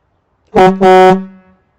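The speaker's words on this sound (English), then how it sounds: "We'll start off with our large single horn." A loud, harsh PacPro large single air horn by Pacbrake sounds in two quick bursts, the second held longer before trailing off into a short faint tail.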